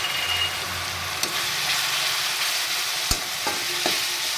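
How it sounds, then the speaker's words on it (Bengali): Garlic paste stirred and fried with onions in a pan makes a steady, close sizzle with scraping stir strokes and a few sharp spoon knocks against the pan. "এবার আমি দিয়ে নেব এর মধ্যে 1 চামচ রসুন বাটা, রসুনটা একটু নেড়ে ফেলে নেব কিছুক্ষণ"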